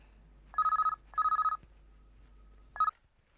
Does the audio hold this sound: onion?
no